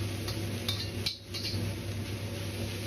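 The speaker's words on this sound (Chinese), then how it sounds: "接着下入炒过的豆角丝" Metal spatula scraping and clinking against a wok as shredded pork is stir-fried with green bean strips, a few light knocks and scrapes over a steady sizzle and kitchen hum, close and moderately quiet.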